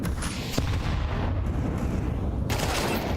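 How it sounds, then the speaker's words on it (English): Counter-Strike 2 match at a BLAST Premier Fall Showdown 2024 quarterfinal, FaZe versus paiN, with a steady barrage of grenade blasts and gunfire, loud and dense throughout and no talk over it. "Double nades down, and more importantly, Lux with a follow-up kill"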